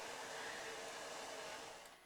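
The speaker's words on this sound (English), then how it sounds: "I woke the next morning to the sound of Mai's hairdryer." A hair dryer from the visual novel game Asagao Academy blows as a steady, close broadband whoosh, then fades slightly near the end, with no voices over it.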